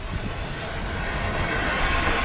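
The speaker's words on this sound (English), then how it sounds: "here comes the train." The Christmas Train of Lights, a passenger train near Kingswear, approaches with a steady low rumble that swells slightly, heard at moderate distance with no talking.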